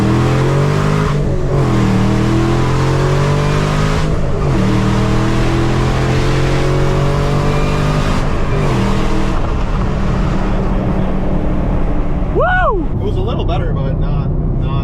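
A Camaro ZL1 engine holds a loud, sustained roar on a dyno pull, pitch climbing steadily in two long sweeps before dropping off near the end, with people talking faintly underneath.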